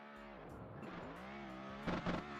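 A BMW drift car runs on the track at Tokachi International Speedway in Japan during drift qualifying. Its engine revs continuously at a moderate distance, with tire squeal, and swells briefly louder near the end.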